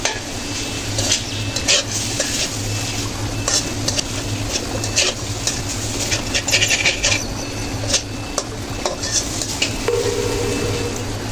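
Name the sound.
fish roe stirred and frying with spices in a pan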